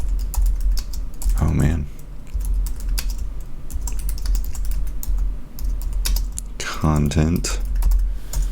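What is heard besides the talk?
typing on a computer keyboard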